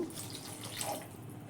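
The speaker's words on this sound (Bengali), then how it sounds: "জল দিয়ে দেব আর একটু জল দেবো" Water pours briefly into a pan of egg curry with double-yolk eggs, a short soft splashing trickle heard up close and alone.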